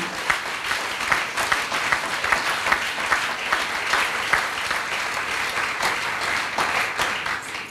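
A church congregation at a Sunday service applauds strongly and steadily, dense clapping filling the room for several seconds with no talking over it.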